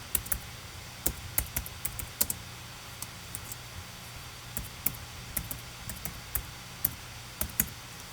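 Typing on a computer keyboard, irregular crisp key clicks tapping close by, scattered across the whole stretch over a low steady hum, with no talk.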